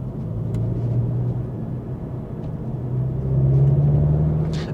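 A Volkswagen Golf GTI TCR engine and exhaust while driving, a steady low droning rumble inside the car that swells louder and slightly higher in pitch toward the end as the revs rise.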